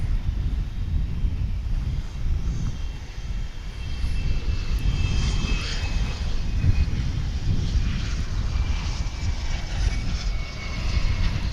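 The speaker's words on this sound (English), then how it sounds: "it'll make a U-turn eventually as it taxis up here to the UPS Dallas-Fort Worth headquarters" A UPS cargo aircraft taxis at Dallas-Fort Worth airport, its engines giving a loud, steady roar and whine, with some wind buffeting on the microphone.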